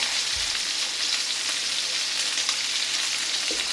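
Meat browning in olive oil in a large gravy pot, a steady dense sizzle and crackle that runs continuously and fairly loud, with no talking.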